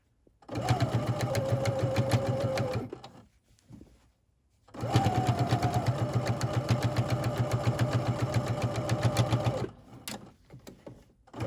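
A sewing machine runs in two sustained bursts of fast, steady stitching while top stitching fabric for a collar band and collar, with a short pause between runs and a brief start again at the end; close and fairly loud.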